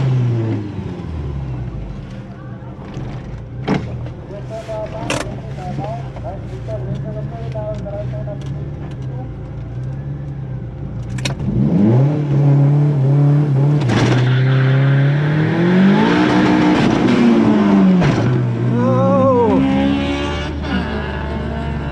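A drag race car at a strip launches and accelerates, its engine rising in pitch through the gears, loud and close after a stretch of idling and background talk.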